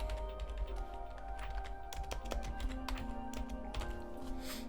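Rapid, steady keystrokes clatter on a computer keyboard as the words coffee table are typed, a close, even run of light taps with faint music or hum underneath.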